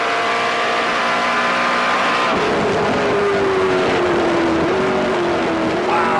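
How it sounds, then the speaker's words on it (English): A NASCAR Canadian Tire Series stock car engine screams at full revs during the Edmonton 100 race, a loud sustained roar with a steady high pitch that shifts slightly as the car passes. "That motor was up there at full song for a long, long time."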